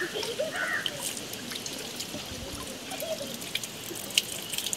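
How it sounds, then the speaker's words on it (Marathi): Water trickles gently and continuously at a village pond, a soft, close, steady flow with faint background sounds behind it. "तर आपण पाणी पिऊया इथून आणि जाऊया पुढे"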